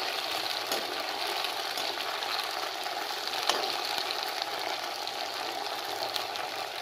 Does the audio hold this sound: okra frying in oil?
yes